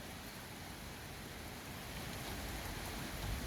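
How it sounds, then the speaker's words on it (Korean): Steady rain falling on a drizzly late-monsoon day, a dense, even hiss with a low patter that builds slightly louder toward the end, with no voices. "비 온다. 비 온다."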